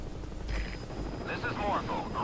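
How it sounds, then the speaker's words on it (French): A helicopter arrives in the video game Metal Gear Solid V: Ground Zeroes, its rotor and engine noise mixed with game effects while someone talks over it. "l'hélicoptère, il vient d'arriver"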